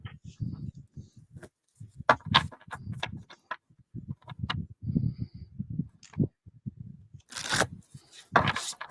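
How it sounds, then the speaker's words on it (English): A brand-new oracle card deck being shuffled by hand, giving repeated soft riffling and flicking bursts with short pauses between them, close and fairly quiet, with a few sharper card snaps. "I love shuffling a new deck"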